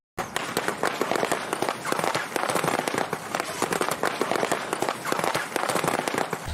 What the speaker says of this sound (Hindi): मूवी में जो हम पटाखों की आवाज़ सुनते हैं उसे बलून के ऊपर कार चलाकर कुछ इस तरह से रिकॉर्ड किया जाता है।